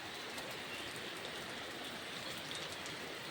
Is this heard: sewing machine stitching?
no